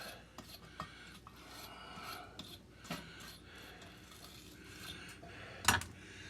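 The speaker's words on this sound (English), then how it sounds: "I'm just cleaning the threads up on it a little bit." Steady scraping and rasping as the threads of an old spark plug from a 50-year-old Cat 60 cylinder head are cleaned, close and fairly quiet, with a sharp metallic clink near the end.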